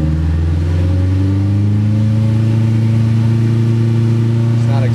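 A car engine idles steadily with a low, even hum, loud and close, while someone talks over it.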